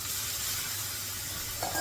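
Water sprinkled onto a hot dosa griddle sizzles in a steady, close hiss for a moment, with a brief extra crackle near the end.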